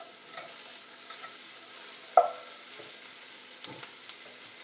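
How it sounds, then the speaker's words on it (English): Sweet potato pad thai frying in a pan and being stirred, with a soft sizzle under a few scattered scraping knocks of the utensil, one louder clack and two lighter taps near the end. "Let's go ahead and give this a stir."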